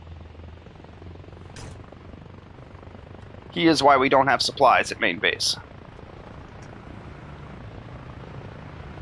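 A helicopter in a video game drones steadily at low level in the background throughout, while someone speaks briefly over it partway through.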